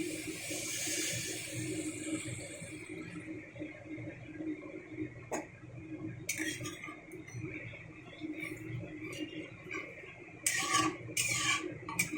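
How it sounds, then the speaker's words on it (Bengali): Water is poured into a pan of cooking okra, a brief rushing splash followed by quieter simmering and a few light clinks of utensils, heard close with no speech. "এখন আমি দিয়ে দেবো জল।"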